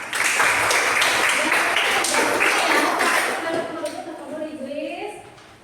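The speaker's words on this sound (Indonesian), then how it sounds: "Masya Allah, tepuk tangan untuk Pak" Students in a classroom applaud their teacher, a burst of dense clapping from the start that tapers off as a voice begins speaking near the end.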